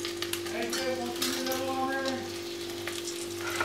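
Bay leaves and split dried red chillies sizzle in hot oil for a chicken curry, a steady close frying hiss with crackling spits throughout, no voices.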